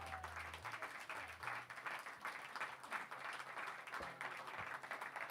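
Audience applause and clapping at a live song performance, a moderate, steady wash of hands that keeps up for several seconds after the song ends, with no voices over it.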